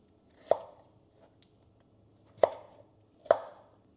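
A knife chops through kabocha squash on a cutting board in three sharp, close thuds, plus one lighter tap, spaced irregularly in a quiet kitchen.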